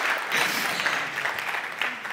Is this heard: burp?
no